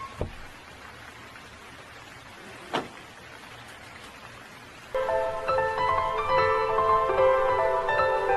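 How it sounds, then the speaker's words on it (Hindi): Steady hiss of Mumbai rain falling throughout, joined halfway by a louder, fuller wash of noise with tonal music layered over it. "ये मुंबई की बारिश है, अंदर आ जाइए।"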